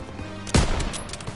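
A single sharp burst of gunfire from a machine gun position in the World War II shooter Call of Duty WWII, fairly faint against a busy battlefield background.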